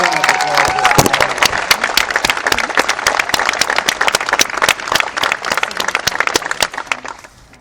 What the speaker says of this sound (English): let's give Paramount a big round of applause